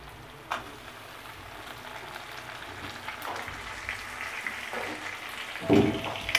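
Tomatoes and onions sizzle in oil in a pan while a banana flower curry is being cooked, a soft, steady crackle with a few louder clatters of the pan, fairly quiet.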